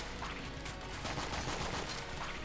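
Rapid, dense gunfire with Vorpal bullets in Enter the Gungeon forms a continuous loud barrage of overlapping shots that never lets up, with no voice over it.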